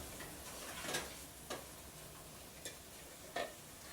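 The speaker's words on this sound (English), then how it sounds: "I will let this simmer for approximately 5 minutes." Masala curry for katahar simmering and bubbling in a pot, a steady low sizzle with a few soft clinks or stirs scattered through, fairly quiet and without any talking.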